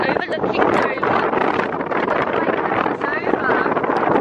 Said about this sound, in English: It's really windy, isn't it?